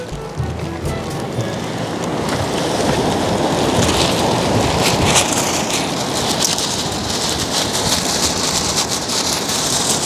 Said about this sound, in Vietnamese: Trời ơi, gió dữ quá.